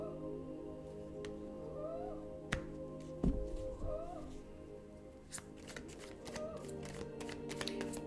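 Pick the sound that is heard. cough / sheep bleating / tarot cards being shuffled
tarot cards being shuffled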